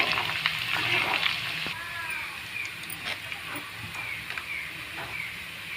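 Small gooseberries for amla pickle frying in a pan: a soft, continuous sizzle and hiss with occasional light stirring clicks, fairly quiet and close.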